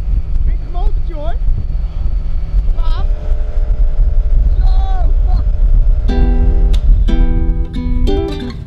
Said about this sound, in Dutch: Pittig motortje, hoor.